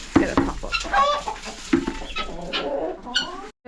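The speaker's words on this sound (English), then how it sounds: "These are the first lot of hens." Hens and guinea fowl on an Irish farm cluck and call at feeding time, a busy run of short, close clucks and squawks with clattering feed noises between them and a brief gap near the end.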